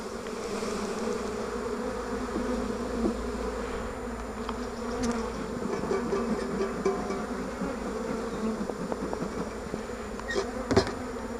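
Honeybees buzzing around an open hive during an inspection, a dense continuous drone from many bees close by, with occasional louder passes and faint handling knocks, no talking.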